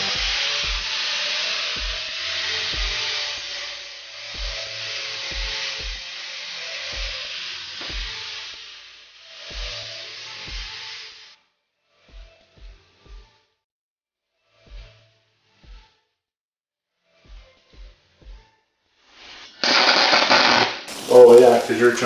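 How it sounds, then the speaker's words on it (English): Stick welding joins two scrap metal pieces for a welding table, giving a steady crackling hiss for about ten seconds with rhythmic low thumps beneath. Scattered taps follow, then a louder burst near the end. "I do think I'm going to attempt to stick weld these bottom two pieces together."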